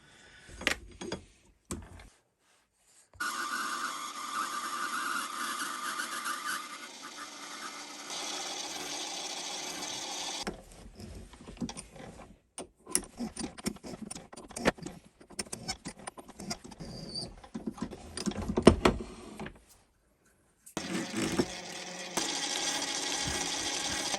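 A small metal lathe turning a brass bolt in a workshop, a steady machine whir in long runs broken by pauses, clicks and short bursts of cutting noise, no talk.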